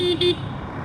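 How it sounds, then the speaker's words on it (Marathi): Two quick, close horn beeps from a Yamaha XSR 155 motorcycle in succession, a short toot-toot, then the sound dies away. "हॉर्न तर खूप चांगला आहे"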